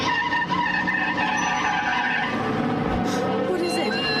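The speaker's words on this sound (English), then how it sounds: "The truck stopped." A truck skids to a stop in an audio drama scene, a long loud tire squeal over engine roar, close and continuous, with a brief scrape near the end.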